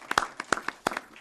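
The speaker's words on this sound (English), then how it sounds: "let's give her a round of applause anyway." A small scattering of claps at a school board meeting, a handful of sharp separate hand claps spread over about a second, sparse and fairly close.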